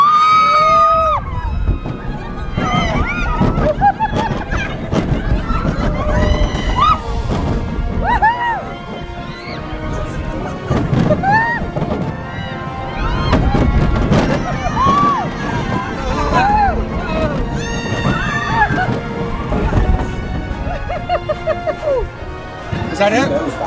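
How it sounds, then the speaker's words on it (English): A theme park ride at Universal Studios Hollywood rumbles with loud crashes, thuds and effects, while a crowd of riders and voices chatter and exclaim throughout. "We're on a ride."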